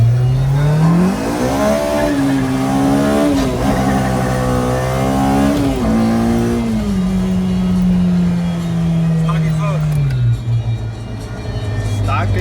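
An engine rises and falls in pitch as a two-door Honda CR-Z accelerates and shifts, a mild drone through the stock exhaust heard from inside, with a voice talking over it at times.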